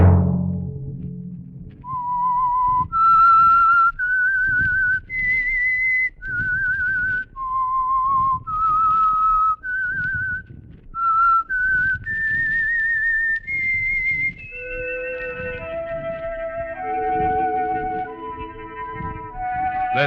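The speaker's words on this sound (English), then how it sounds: "Let that whistle be your signal for the Signal Oil program, The Whistler" A lone whistler carries the signature tune of The Whistler radio program, a clear, close, melodic line of sustained notes that climbs and falls before ending in a descending phrase with light accompaniment.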